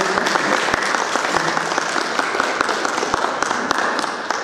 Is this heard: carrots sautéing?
no